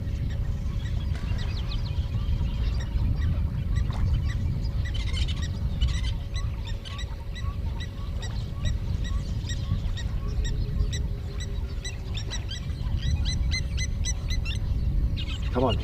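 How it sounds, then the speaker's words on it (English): Egyptian geese honking and calling repeatedly in the open, with scattered bird calls over a steady low rumble of wind or water throughout. "So we've got some Egyptian geese, which they're always quite noisy."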